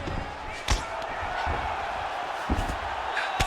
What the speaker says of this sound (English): Hammer fist again landed by Akhmedov.